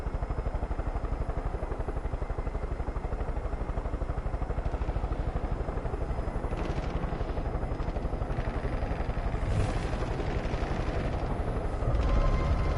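A helicopter in the video game Far Cry 5 gives off a loud, continuous rapid rotor chop that stays steady throughout, with faint clatter toward the end.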